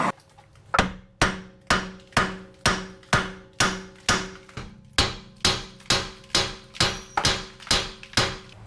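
Steady series of about fifteen sharp, ringing hammer blows on a VW Tiguan suspension knuckle soaked in penetrating oil, evenly spaced at roughly one strike every half second, close and loud with metallic resonance after each hit.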